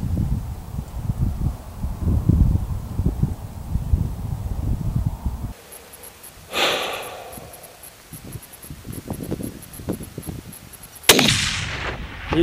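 Rifle shot while hunting aoudad in open country, a single sharp report after a stretch of quiet wind and rustle, followed by another loud crack near the end.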